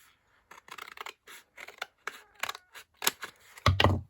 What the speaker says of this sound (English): And then I just took some scissors, and then I just cut